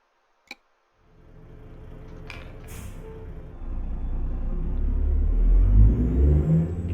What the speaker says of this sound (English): I don't want to have to be hollering over the sound of the truck